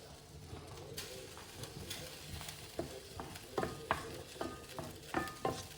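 Chopped onions frying in a hot pan on the stove, a steady close sizzle with intermittent scraping clicks from stirring, no voice heard.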